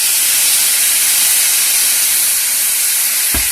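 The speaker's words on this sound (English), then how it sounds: "we're just going to deglaze with a little water out of the kettle here" Kettle water poured into a hot pan of vegetables to deglaze it, making a loud, steady, broad steamy hiss that fills the whole stretch without letting up.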